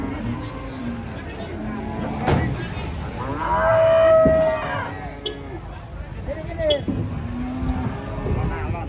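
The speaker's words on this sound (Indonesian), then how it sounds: "Ini sapi lucu ini." A cow being unloaded from a truck lets out a long, loud moo over a busy background of people chattering in Indonesian and moving nearby.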